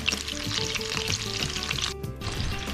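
Meatballs brown in a crowded frying pan for Spanish meatballs with chickpeas, a dense steady sizzle with occasional stirring scrapes, close up, with no voices.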